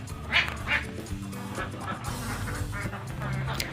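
Laying ducks kept in a dry cage-system farm quack in a few loud, nasal bursts early on, then a busier murmur of quacking and farm noise continues at a lower level.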